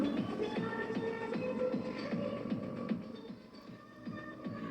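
Rhythmic music with a steady beat plays from a cassette in a boombox at moderate volume, slightly muffled and boxy, with faint background hiss.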